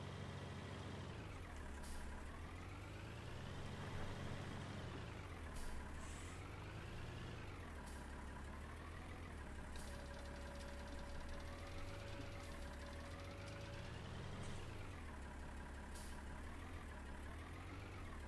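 An old Bührer tractor in Farming Simulator 19 drones with a steady, low diesel rumble whose pitch rises and falls gently as it is driven, continuous and alone with no voices.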